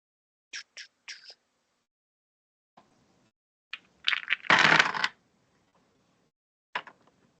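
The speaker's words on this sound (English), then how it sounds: "That sound like way too many dice, Jay." Several large dice rattle and clatter across a table in short bursts, with a longer, louder tumbling roll in the middle, heard close up during a tabletop role-playing session.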